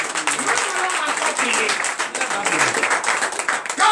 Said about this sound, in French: Donnez de vivre acclamation à notre Seigneur.